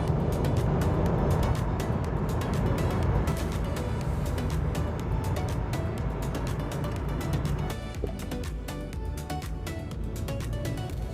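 A car cruising along a highway toward Washington, D.C. on a road trip home from the Outer Banks, heard from inside as a steady, dense road and engine rumble with wind noise, unbroken throughout and with no talking.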